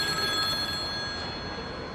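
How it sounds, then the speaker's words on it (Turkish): Telephone bell ringing steadily, with a high metallic tone sustained through the clip above a dense, noisy background. "Ya bakın şu telefona biriniz hayrınıza müşteri arıyor."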